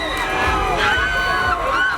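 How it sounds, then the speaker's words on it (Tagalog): Fans at a Wish Bus roadshow in the Philippines cheer and scream as a South Korean act performs, a dense, continuous wall of high-pitched shrieks and crowd noise close by. "All out naman sa hiyawan ang mga naki-join sa roadshow"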